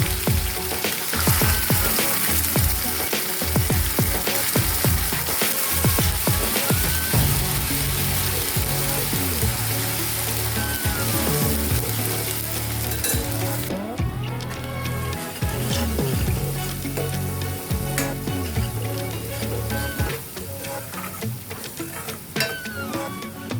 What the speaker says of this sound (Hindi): प्याज को अब हम अच्छे से भून लेंगे